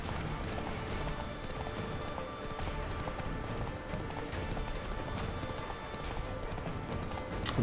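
A horse gallops in The Witcher 3, its hooves beating a quick, steady clip-clop rhythm close by for the whole stretch, with game ambience underneath and a few louder hoof strikes at the very end.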